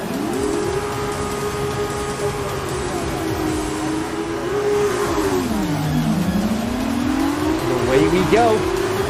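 An F2 race car engine in the F1 2019 video game howls at a sprint race start, its steady pitch dipping and rising through gear changes, loud and continuous with other cars buzzing around it.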